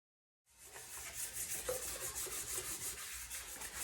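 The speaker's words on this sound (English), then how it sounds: "just use this fine 400 grit just to kind of rough up the deck" Fine 400-grit sandpaper rubs steadily across the deck of a 351 Cleveland engine block, a continuous close scratchy sanding with a slightly pulsing back-and-forth rhythm, alone without talk.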